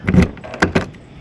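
Keys work the door lock of an RV camper, giving a few short metallic clicks and rattles in quick succession, close and fairly loud with no talking.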